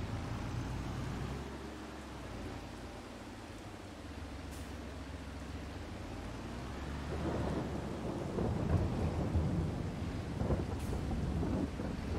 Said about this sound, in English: Let's see when the rain is going to end.